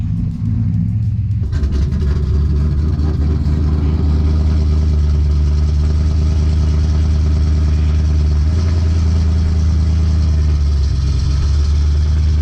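A 6.0L LS-swapped OBS truck at a quarter-mile drag strip, its deep engine rumble steady and loud, then surging into a heavy, rising roar as it launches and pulls away, with no talking.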